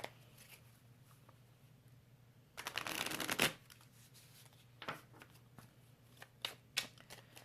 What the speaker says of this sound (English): So let's get an animal card to start.